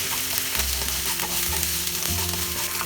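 Onion and capsicum stir-frying over a high flame for chili chicken, a loud, close sizzle broken by repeated scraping and clanking stir strokes, with no talking.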